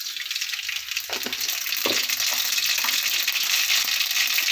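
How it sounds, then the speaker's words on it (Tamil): Mustard seeds sizzle in hot oil for a chicken gravy, a continuous bright hiss with a few sharp pops and crackles near the pan. "கொஞ்சம் கடுகு போட்டுடலாம்."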